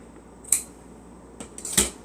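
Scissors cut through fabric for sewing night clothes from a McCall's pattern: a few short, sharp snips spaced apart by quiet pauses, close up.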